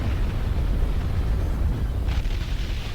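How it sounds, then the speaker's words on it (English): An ion cannon fires and destroys a ship in the Star Wars: Empire at War video game, heard as a loud, rumbling explosive roar with a brief burst partway through, sustained and close with no speech. "Ion cannon fired."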